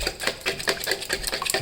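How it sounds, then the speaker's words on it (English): Whisking semi-skimmed milk and oil into muffin batter in a bowl produces a steady run of quick, rhythmic scraping and tapping strokes, close and fairly soft, with no voices. "add in the 120 milliliters of semi-skimmed milk and the 45 milliliters of oil. And just mix it in."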